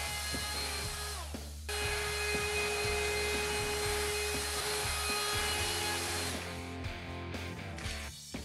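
A wood router whines steadily at high speed, shaping a Fender Telecaster guitar neck with a profiling bit and template, a harsh, continuous grinding roar that shifts slightly in pitch.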